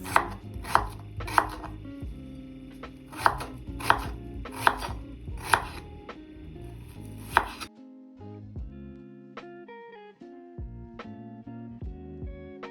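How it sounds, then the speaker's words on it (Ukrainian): An onion is chopped into half rings on a cutting board, with about eight sharp, evenly spaced knife strikes followed by quieter scraping and handling sounds, alone and close. "Беремо та очищуємо цибулю 1 кг. Нарізаємо півкільцями."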